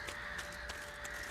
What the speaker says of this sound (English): Those crows are loud.